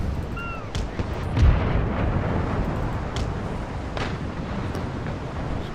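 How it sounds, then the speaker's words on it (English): Broadside cannon fire from a sailing warship during a naval battle in the strategy game Empire: Total War, heard as a continuous dense rumble of booming shots with one heavier thud near the start, under steady battle noise. "Give them a broadside and then straighten up."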